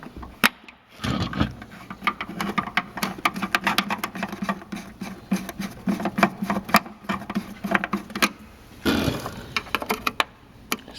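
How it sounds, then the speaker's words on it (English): Hex screws being undone on the plate of a decommissioned voting machine: close, irregular small clicks, taps and scrapes of handling, with no talking. "I'm going to try to lift the plate off of that by undoing this hex screws."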